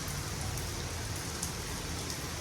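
Heavy rain pours down in a steady, even hiss on surfaces all around, continuous and fairly soft with no voices.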